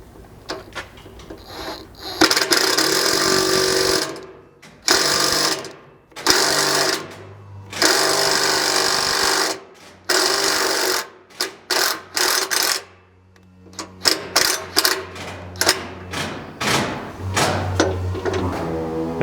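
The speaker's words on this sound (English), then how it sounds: "You'll then need an impact and a 3/4 socket. and you can run these into place." An impact wrench with a 3/4 socket drives self-threading bolts into a transfer case skid on a 2022 Toyota Tundra, loud rattling hammer bursts lasting a few seconds each, separated by pauses and ending in short blips.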